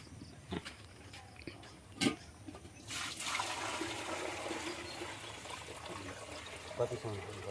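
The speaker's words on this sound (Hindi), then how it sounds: "पानी हालौँ।" Water is poured while herbal Ayurvedic medicine is being prepared, a sustained splashing pour following a few sharp knocks, with voices talking over it.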